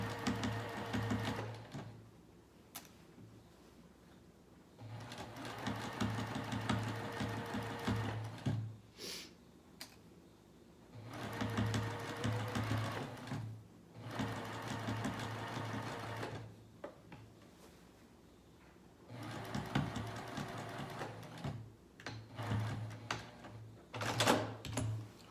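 Sewing machine stitching a garment seam near the center back, running in several bursts of a few seconds each with quiet pauses between, a fast mechanical whir and clatter heard close up.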